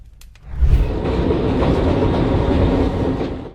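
Train carriage rolling along the rails, a steady rumbling roar with rhythmic clatter from the wheels, loud and close from inside the moving car after a brief quieter start.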